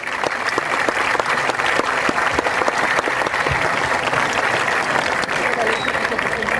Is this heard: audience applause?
yes